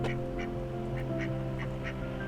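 Ducks on a rooftop in Darjeeling quack in a quick series of about seven calls, nearby and fairly loud, over a steady low background hum.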